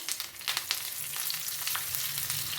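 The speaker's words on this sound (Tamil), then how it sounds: "கருவேப்பிலை, பச்சை மிளகாய், காஞ்சி மிளகாய் 2 தான் கிள்ளி போட்டிருக்கேன்" Curry leaves and green and dried red chilies crackle and sizzle in hot oil in a pan. The sizzle is steady and close, with sharp little pops scattered through it and no voices.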